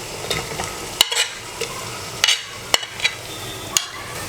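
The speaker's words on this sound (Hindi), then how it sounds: "अब हम इसमें प्याज डाल देंगे।" Onions are added to lightly fried ginger and garlic in a pan for a raw jackfruit curry, giving a steady soft sizzle. A spoon scrapes and clanks against the pan in several sharp strokes, close up.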